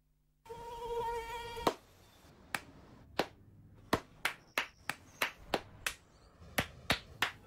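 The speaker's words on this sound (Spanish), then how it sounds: "No aplaudamos al mosquito, combatámoslo en serio." A high-pitched mosquito whine drones briefly, then gives way to a series of sharp, irregular claps or slaps ringing out one after another.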